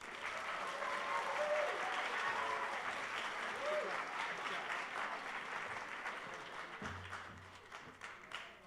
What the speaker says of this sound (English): give a very, very large round of applause and a welcome to our Five Towns College President